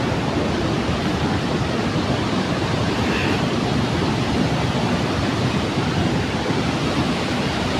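Jana waterfall near Manali roars as a dense, constant wash of rushing water, loud and steady without a break.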